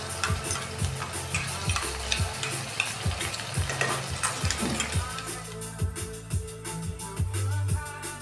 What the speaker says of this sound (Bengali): এই পেস্টটা দেওয়ার পর আমরা এটাকে একটু কষিয়ে নেব